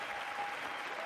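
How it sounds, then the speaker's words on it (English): Dense, steady applause from a large audience in a congressional chamber during a State of the Union address, continuous clapping with no breaks, heard at moderate distance. "Yeah, you better clap for that, McCarthy."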